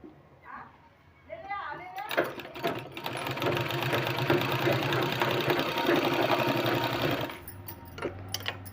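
Sewing machine running steadily for about five seconds, stitching a sleeve, starting after a short quiet stretch and stopping near the end, with faint background sounds.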